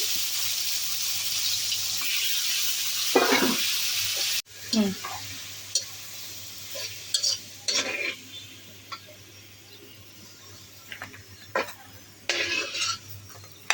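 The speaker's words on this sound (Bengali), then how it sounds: "আলুগুলো ভাজতেছি।" Potatoes fry in oil in a pan with a loud, steady sizzle for several seconds, then it drops to quieter crackling broken by sharp scrapes and clinks of a spatula stirring close by.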